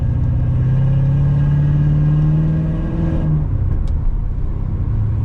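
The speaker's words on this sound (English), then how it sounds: "If you guys just heard that burble in the back of the car, that thing sounds absolutely amazing" E85-fuelled C7 Corvette with bolt-on modifications, its exhaust holding a loud, deep steady drone that tapers off after about three seconds into a lower rumbling burble, heard alone and close.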